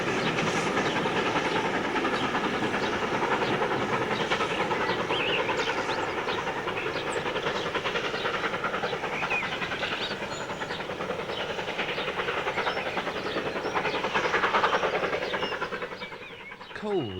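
Steam locomotive Evening Star hauling the Up Mail from Bournemouth over Cole Viaduct on the Somerset & Dorset Railway, a sustained loud rumble and rhythmic clatter of carriages rolling past, fading slightly near the end.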